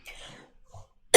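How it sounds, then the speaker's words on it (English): A single person coughs close by, a short rough cough followed by a quieter throat sound, with a sharp loud knock or bump right at the end. "I am going to see the doctor about this cough, because it's been ongoing and it annoys me"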